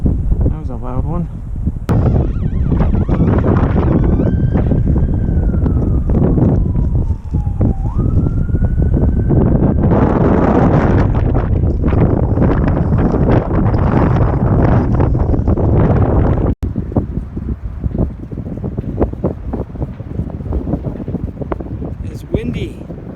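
Strong wind buffets the microphone in a park, a heavy low roar that lasts throughout, while a siren wails in the background and someone talks over it.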